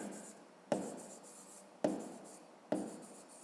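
A pen writes on paper during a fifth-grade maths lesson, with three short scratchy strokes, each starting with a sharp onset and trailing off, close and fairly quiet.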